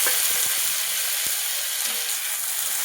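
Tomatoes go into onions sautéing in a pan for a spicy eggplant curry gravy, a bright close sizzle with a few quick scraping stirs and clicks at the start, no talking.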